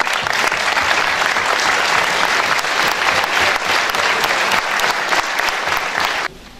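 An audience at the opening ceremony of the 2018 National History Olympiad in Alba Iulia stands and applauds in a hall, with dense, steady clapping filling the room before it cuts off abruptly near the end.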